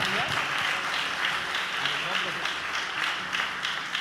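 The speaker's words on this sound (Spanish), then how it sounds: "Demos ese fuerte aplauso al Señor." A church congregation claps loudly and steadily at a worship service, a dense continuous patter with voices and shouts mixed in throughout.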